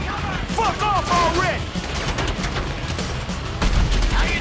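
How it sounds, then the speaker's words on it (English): Bursts of Grand Theft Auto V gunfire crackle through a busy mix during the Paleto Score heist, with voices calling out over the shots and a heavier burst near the end. "You hear that gunfire?"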